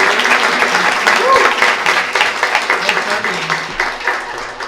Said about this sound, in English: How about a round of applause for our Vines High School students here?